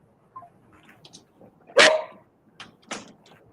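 A pet dog gives a few scattered barks and yips, one loud sharp bark in the middle, with quieter whimpers around it, fairly close.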